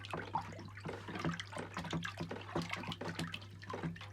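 Water in a bucket stirred by hand to dissolve a liquid pesticide concentrate for treating strawberry roots, giving repeated close sloshing and swishing strokes in a steady rhythm with a low hum underneath.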